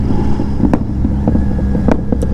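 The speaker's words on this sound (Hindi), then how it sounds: "क्रैकल सुन रहे हो भैया, क्रैकल," A Kawasaki Z900 motorcycle rumbles up close on the move, with several sharp exhaust crackles and pops breaking through steady wind buffeting.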